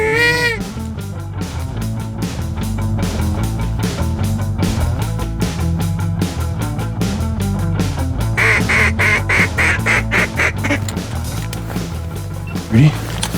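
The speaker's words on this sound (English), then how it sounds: "we've got a big group of mallards out to our right" A big group of mallard ducks quacks on the water during a duck hunt, a repeated chorus of calls carrying steadily, with people speaking quietly nearby.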